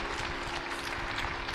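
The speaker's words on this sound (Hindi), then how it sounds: "एक बार जोरदार तालियां बजा दो भाई" Audience clapping at a yoga and Ayurveda gathering, a steady dense patter of many hands held at an even level throughout, with a faint hum underneath.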